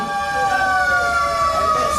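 A fire truck siren sounds during a firefighting operation in Makassar: a loud, sustained, slowly wavering siren tone that holds throughout, close by, over a low rumble.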